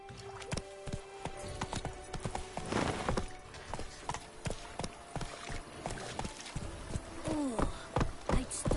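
Hooves of Roach, the horse in The Witcher 3, clop at a steady walking rhythm, fairly close and clear, with a few harness or gear jingles mixed in.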